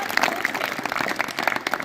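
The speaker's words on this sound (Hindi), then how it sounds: "एक बार जोर से ताली हो जाए।" Audience clapping at an outdoor village Youth Day gathering of a community forum, a steady, dense patter of many hands lasting a couple of seconds with no talking over it.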